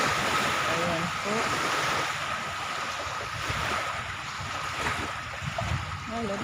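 Waves slosh and roll on choppy water outdoors, steady and close, with wind noise on the microphone and voices speaking over it.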